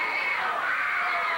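A crowd at a 1987 CWA Memphis wrestling show cheers loudly for Jeff Jarrett, a dense, continuous roar of shouting and whooping voices filling the hall.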